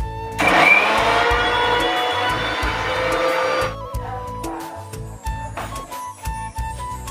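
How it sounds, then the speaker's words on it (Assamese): A kitchen mixer grinder whirs loudly for about three seconds as it blends boiled ingredients into a paste, then winds down into a few softer clatters and jar knocks. "আৰু মিক্সাৰ জাৰত ধুনীয়াকৈ এইখিনি পিচি ল'ম"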